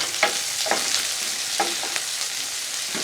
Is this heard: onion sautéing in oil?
yes